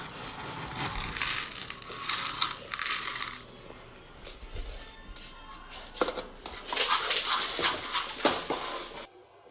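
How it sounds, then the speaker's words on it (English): A dog scuffs its paws on a doormat at a doorway, making close, repeated bursts of scraping and rustling that come in uneven clusters with short pauses between them. "Go ahead, wipe your feet."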